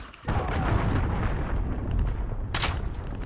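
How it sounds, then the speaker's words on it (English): Cruise missile strike in Call of Duty: Modern Warfare (2019): a sudden loud, close explosion erupts and rolls into a long, heavy rumbling blast, with a sharp crack of debris near the end. "Enemy cruise missile incoming."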